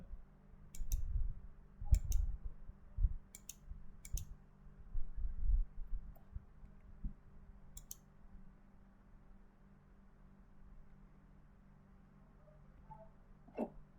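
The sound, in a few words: computer mouse clicking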